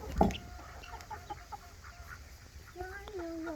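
Chickens in a chicken tractor give short clucks and a sharp squawk at the start, with scattered low calls and a drawn-out cluck near the end, against faint outdoor background.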